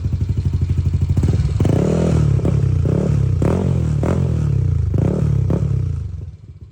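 A Yamaha Aerox V3 scooter with bolt-on cams and an aftermarket MTRT Evo 2 exhaust idles with a loud raspy note, then is revved repeatedly in sharp bursts before settling and cutting off, close up.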